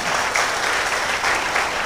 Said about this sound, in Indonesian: Tepuk tangan dong buat Indonesia.